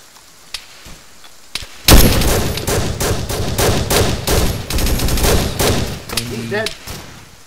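Heavy gunfire in a milsim firefight: a few isolated shots, then a sudden dense burst of rapid automatic fire and overlapping volleys that runs on loudly, close and sustained, with a voice briefly heard near the end.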